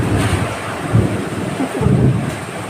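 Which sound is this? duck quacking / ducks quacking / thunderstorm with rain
thunderstorm with rain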